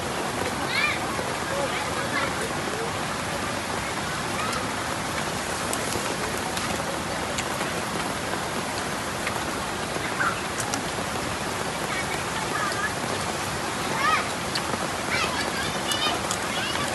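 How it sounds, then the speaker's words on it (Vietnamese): Steady rain pours down in a forest, a dense, even hiss of drops on leaves and ground holding unbroken and fairly close throughout, with no voices over it. "Càng mưa rồi."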